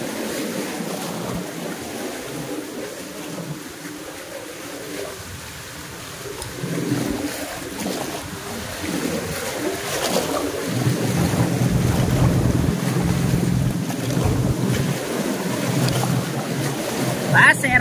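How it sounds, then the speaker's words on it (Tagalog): Ocean waves build and surge around a fisherman casting a net from the shore, a steady broadband wash with wind buffeting the microphone, growing louder and heavier toward the end. "Nako mga bro, lalo lumalaki yung alon."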